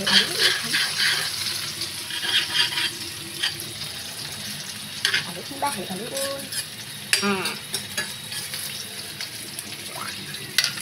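Onions sizzle in a frying pan while a utensil stirs and scrapes through them, with irregular clinks and bursts of frying noise and brief speech in between.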